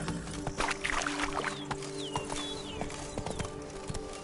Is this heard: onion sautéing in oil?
no